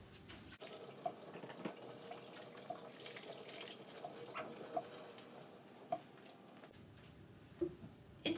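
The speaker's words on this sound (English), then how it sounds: "Wash my hands." Steady running water from a kitchen tap as hands are washed, a soft continuous splashing stream with occasional drips and light knocks, quiet and close, with no talking.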